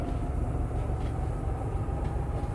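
Steady low rumble and rolling rail noise from a moving train in the simulation game Derail Valley, continuous and fairly close with no talk over it.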